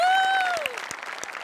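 A studio audience at a Marathi comedy show breaks into applause, at first under a brief vocal sound, then as rippling claps that fade.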